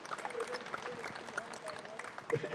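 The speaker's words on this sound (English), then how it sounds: "Let's give them a nice round of applause, guys." Faint, steady applause from an audience at a livestock ram sale forum, a dense patter of many hands with voices mixed in.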